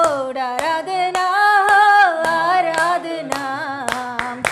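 A church congregation claps steadily in rhythm during Hindi-language worship of Jesus. Sharp, evenly spaced claps fall beneath loud, sustained group singing.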